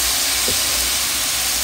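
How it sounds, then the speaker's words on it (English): Vegetable broth hits a hot pan of vegan beef crumbles with a steady, loud hiss of steam. The sizzle holds evenly for under two seconds, with no talking. "I'm going to add vegetable broth"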